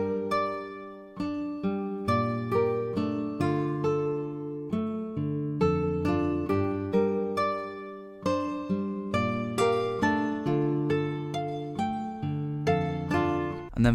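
Arpeggiated Latin-style guitar melody made in FL Studio, with plucked notes rolling in steady, rhythmic patterns at a moderate level, alone and without talk.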